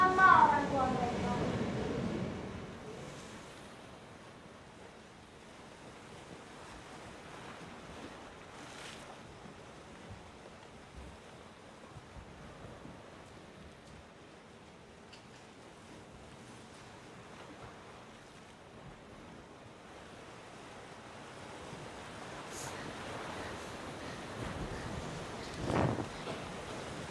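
Sea waves at a beach played as a sound effect in a children's stage musical, a soft continuous wash of surf with gentle swells, low and steady under the scene.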